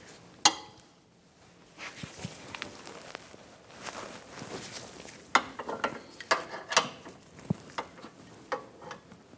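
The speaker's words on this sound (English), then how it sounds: "Take these two bolts out for the caliper bracket." Ratchet with a 21mm socket loosening the caliper bracket bolts on a 2010-2014 Volkswagen GTI front brake, bursts of close, crisp clicking interspersed with metallic knocks and shuffling, no talk.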